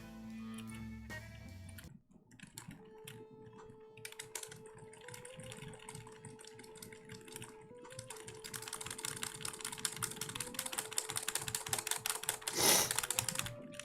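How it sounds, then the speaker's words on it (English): Z and Enter keys are mashed on a computer keyboard during a speedrun of the game Space Funeral, a quick run of light clicking taps over sustained game music. "I'm mashing text, I use Z and Enter, since I can use both hands for that"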